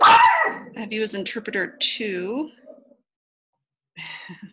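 A dog barks a couple of times near the start, loud and close, while a person talks through the rest of the moment.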